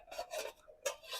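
A peg worked loose from a Trangia simmer ring on a camping stove, heard as close, short metallic rasping and scraping strokes in two bursts, with no voices.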